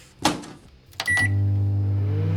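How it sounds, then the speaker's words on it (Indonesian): A microwave oven in a video game: a door clunk and a couple of button beeps, then the steady loud hum of the oven running, alone with no talk. "Makan, kita taruh ke microwave."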